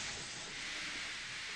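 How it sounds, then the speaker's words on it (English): A steam engine gives a steady, soft hiss of escaping steam, constant and fairly faint throughout. "Henry still stayed in the tunnel and blew steam at him"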